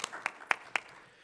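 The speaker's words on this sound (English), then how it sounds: "let's give her a little round of applause" A few faint, evenly spaced claps, about four in quick succession, from a small audience at a presentation on extracting data from EHRs and clinical databases. The room is quiet around them.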